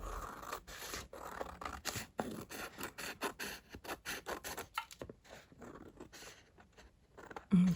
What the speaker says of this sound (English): And we just snip this around.